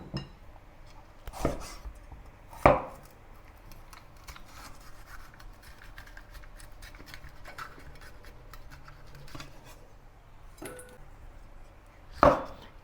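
A knife chops vegetables on a cutting board while preparing a black pepper chicken stir-fry with chicken, celery and onion. A few sharp, isolated chops stand out at the start and end over a quiet, faintly rustling kitchen background.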